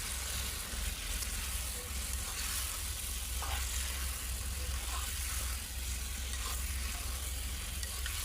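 Potato cubes added to chicken curry frying in a pot, a steady broadband sizzle running throughout with faint stirring clinks.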